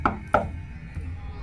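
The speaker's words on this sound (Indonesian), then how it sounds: "terdengar suara ketukan pintu" Two sharp knocks on a door, close and fairly loud, the second about a third of a second after the first, then quiet room tone with no voices.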